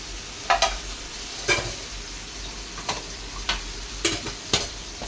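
Mushrooms fry in hot oil in a kadhai for a mushroom bhaji, with a steady sizzle broken by sharp clacks and scrapes of a spoon stirring against the pan.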